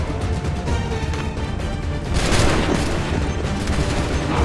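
Musket volley in Assassin's Creed III, a loud dense crackle of many guns firing together that swells into a heavy roar midway and stays sustained to the end.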